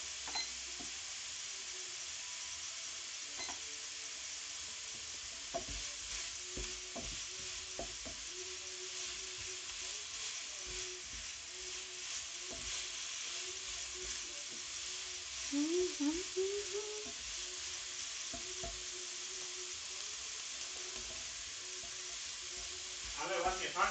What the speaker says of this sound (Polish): Dobra, jeszcze 7 minut gdzieś będziemy smażyć.